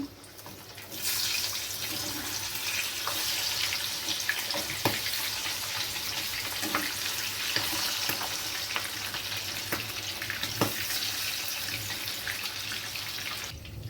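Fish frying in hot oil in a wok, with a continuous loud crackling sizzle throughout and occasional sharp spits and pops.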